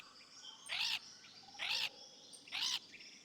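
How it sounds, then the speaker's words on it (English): Three short bright chirping calls from a parrot in the Stardew Valley video game, evenly spaced about a second apart over quiet background ambience. "I got a bit distracted by the funny sounds the parrot makes."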